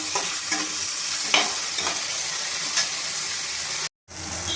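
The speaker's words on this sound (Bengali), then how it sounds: "আমার ক্যাপসিকাম, টমেটো আর কাঁচা লঙ্কাটা ভালো করে ভাজা হয়ে গেছে" Capsicum, tomato and green chilli fry in a wok with a steady close sizzle and occasional stirring scrapes, cut by a brief silent gap near the end before the frying resumes.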